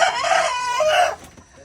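Close, loud crow from a rooster on a poultry farm keeping local desi hens and cocks, a single drawn-out call with a clucking break, fading out at the end.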